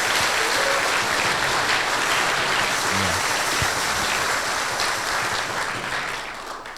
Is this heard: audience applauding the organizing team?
yes